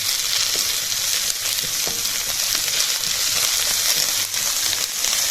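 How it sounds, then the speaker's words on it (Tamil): Onions fry in a pan with chopped coriander, mint and curry leaves, a loud, dense, continuous sizzle with occasional soft stirring scrapes, close by and without talk. "வெங்காயத்தை போட்டு நல்லா வதக்கி விடணும்."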